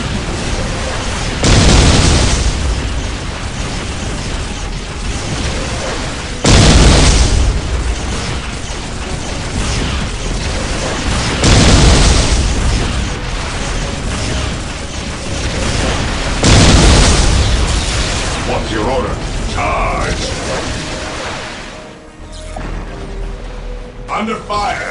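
Explosions and incoming fire in the Dawn of War Dark Crusade strategy game: regular, heavy booming blasts over a constant mechanical rattle of battle noise, loud and close.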